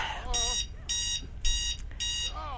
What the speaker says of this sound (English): And there's my timer.